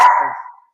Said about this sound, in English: That was like literally perfect in line with my dog's barking.